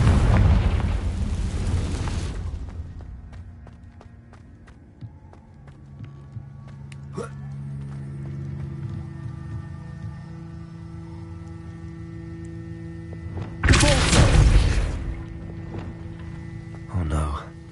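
A Confringo blasting spell explodes in Hogwarts Legacy with a loud, close burst at the start, then quieter rumbling, a sharp crack and a second loud blast near the end.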